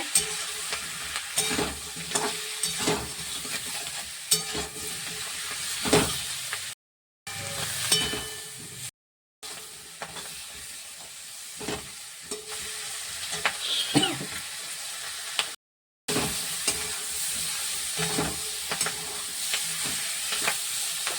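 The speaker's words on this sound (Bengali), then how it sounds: "ধনে গুঁড়ো জিরে গুঁড়ো লঙ্কার গুঁড়ো হলুদ গুঁড়ো দিয়ে দিলাম করে রস কষে নিতে হবে" Tengra fish being stir-fried with ground coriander, cumin, chilli and turmeric in a pan, a continuous close sizzle broken by repeated scraping and clinking of a spatula, with a few brief silent gaps.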